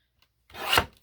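A single quick trim of a book page down to size gives a short, close rasping cut that swells and fades within half a second in a quiet room.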